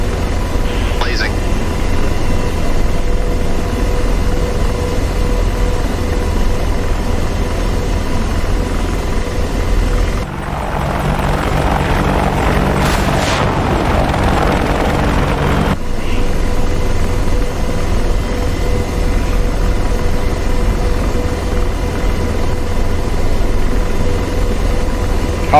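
Helicopter hovering in the flight simulator DCS World on the Persian Gulf map, a loud continuous rotor and engine drone that briefly changes tone midway, with a voice speaking over it.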